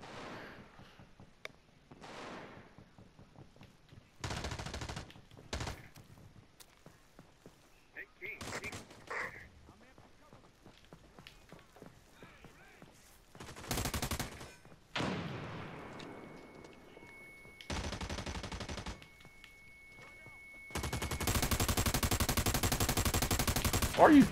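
Gunfire in America's Army: Proving Grounds, scattered single shots and short automatic bursts spread across the stretch, some close and loud, others faint, with a voice talking between them.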